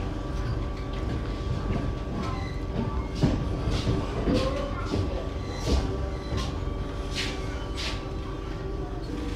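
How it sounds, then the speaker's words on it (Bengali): Vande Bharat Express train running on the Patna line, heard from inside the carriage as a steady low rumble with light rhythmic clicks and squeaks; no talk. "তো আমাদের ট্রেন এখন কাটিয়া জংশন থেকে অন টাইম বেরিয়ে গেছে।"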